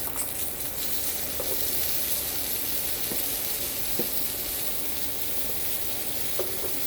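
Salmon steaks sizzle steadily in a frying pan, a constant bright hiss of frying oil with a few faint clicks and taps, close and even, with no voices.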